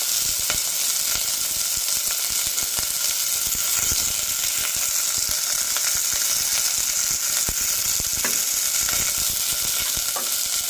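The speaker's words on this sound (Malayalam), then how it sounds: "അരിഞ്ഞു വെച്ചിരിക്കുന്ന സവാള ഇട്ട് കൊടുക്കാം. കൂടെ പച്ചമുളകും" Chopped onion and green chilli frying in a pan, a steady loud hiss of sizzling oil throughout, with occasional light clicks of a utensil against the pan and no voices.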